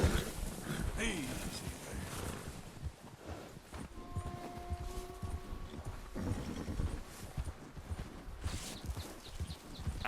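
A horse trots over ground in Red Dead Redemption 2, its hooves clip-clopping in a steady, moderate rhythm close by. Brief game sounds and faint voices can be heard now and then in the background.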